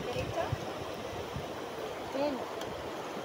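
River water rushing during a crossing in Zamboanga City, a steady hiss of flowing water with brief voices and faint splashes over it.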